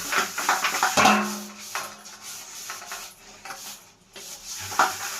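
Dishes, pots and pans being washed by hand: close rubbing and scrubbing with scattered clinks and clatters of metal and crockery, coming in uneven bursts.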